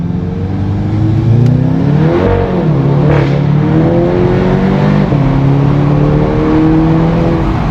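A Volkswagen Jetta GLI with a Unitronic Stage 1+ tune, traction control off, accelerates hard on a street, engine note climbing through rising revs with short dips at gear changes, loud and steady throughout.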